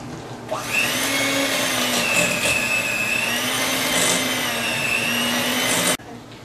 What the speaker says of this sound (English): Now I'm going to beat the eggs in.